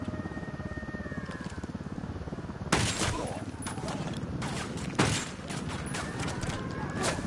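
Gunfire in Ghost Recon, a steady chatter of automatic fire under an ongoing background rumble, with two sharp, louder bursts of shots near the middle and later on.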